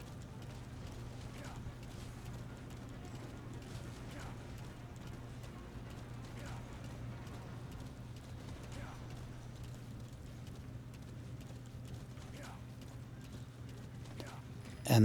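Horse hooves gallop at an even clip-clop rhythm in Metal Gear Solid V, with a low engine-like hum beneath them, running steadily at moderate volume for the whole stretch.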